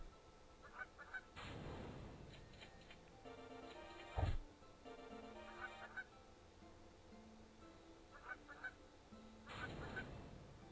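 Cartoonish geese honk repeatedly from a video game about steering a migrating flock and dodging obstacles, the calls coming in short clustered bursts over steady game music with a sharp thump partway through.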